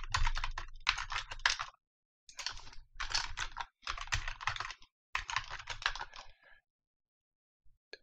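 Password being typed on a computer keyboard: bursts of rapid, close key clicks in several runs separated by short pauses, with no voices.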